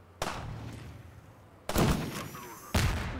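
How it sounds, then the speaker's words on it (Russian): Three sharp gunshots from the video game Neptune Flux, irregularly spaced, each loud and close with a short ringing tail, over a faint background hum and no talking. "Реально, мне прям в лоб сейчас выстрелил."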